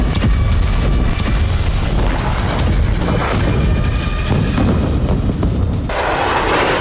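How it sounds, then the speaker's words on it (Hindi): Explosions from Israeli fighter jet missile strikes on buildings in Gaza, a loud, continuous roar of heavy blasts and rumbling booms with crashing debris throughout, with no clear gaps between impacts. "आसमान से इजरायली फाइटर जेट मिसाइलों की बरसात कर रहे हैं"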